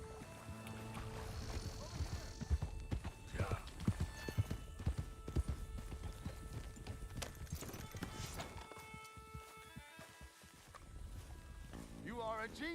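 Hooves of a horse in a video game clip-clop rapidly in a galloping rhythm, loud and close, fading toward the end as music and voices come in.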